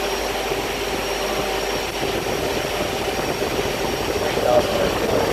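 An unshrouded blower impeller spins on an electric motor and throws air, making a steady, loud whooshing roar with a faint whine that holds constant throughout.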